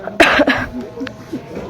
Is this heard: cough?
yes